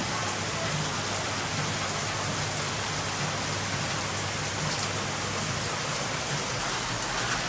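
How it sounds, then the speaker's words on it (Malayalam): Heavy rain pours down steadily outside, a dense, even hiss of drops hitting surfaces with no pauses and no voices. "പുറത്ത് നല്ല മഴയാണ് രക്ഷയില്ലാത്ത മഴയാണ്"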